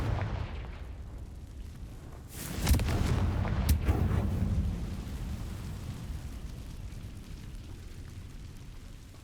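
A Confringo fire spell bursts in the Hogwarts Legacy video game, a sharp blast around the three-second mark followed by a second crack and a rumbling roar that fades into a low sustained hiss.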